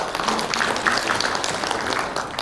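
An audience at a breakfast seminar breaks into dense, steady applause for introduced guests, lasting throughout at a fairly loud level.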